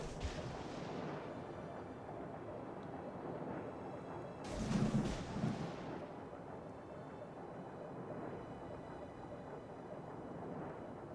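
A naval gun fires in a warship video game, sounding as one muffled, distant boom midway through a steady low background rumble.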